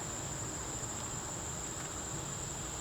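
Honey bees buzz in an opened beehive during a hive inspection, a steady dense drone that holds evenly throughout with a faint high whine on top and no talk.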